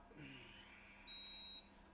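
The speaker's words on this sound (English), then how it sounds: "And there's the timer." One steady high-pitched beep from a kitchen timer during keto pizza cooking, lasting about half a second, faint against quiet room noise.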